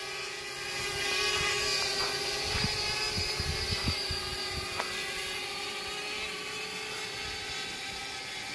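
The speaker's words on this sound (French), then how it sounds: "c'est le drone au décollage" A Parrot Bebop 2 drone lifts off with a steady, high whining buzz of spinning rotors, holding a constant pitch, heard alone at moderate distance.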